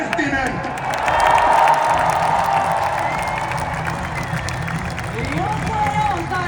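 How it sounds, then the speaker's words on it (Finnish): Crowd applause and cheering fill a hall at a gold-medal celebration for Finland's national ice hockey team as team members arrive onstage. The roar is broad and sustained, swelling slightly early on, with an announcer's voice running underneath. "Annetaan totta kai isot raikuvat aplodit jokaiselle"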